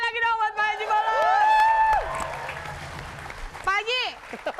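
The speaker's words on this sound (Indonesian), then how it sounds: "Tepuk tangan lagi dong buat Pak Haji Bolot." Studio audience applause on an Indonesian talk show for comedian Pak Haji Bolot, a burst of clapping and crowd noise mixed with overlapping voices and laughter, loudest early then fading under talk.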